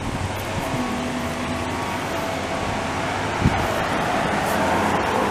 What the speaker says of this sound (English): I like that school bus coming here